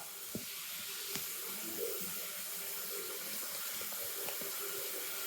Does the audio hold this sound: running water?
yes